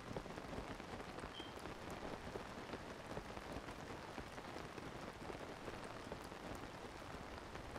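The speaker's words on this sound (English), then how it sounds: "I am seeing a lot of rain" Steady rain falls in the video game Zelda: Tears of the Kingdom, a soft, even patter of drops hissing on surfaces, continuous and faint with no voices.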